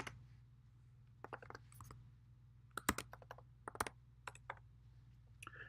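Quiet, irregular keystrokes on a computer keyboard while entering commands in a terminal, with scattered bursts of clicks and short pauses, close and alone.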